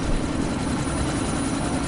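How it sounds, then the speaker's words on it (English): Helicopter in the video game Deus Ex, a steady, loud rotor and engine drone that holds constant throughout with a dense low-end rumble and no speech. "How do I disable this chopper?"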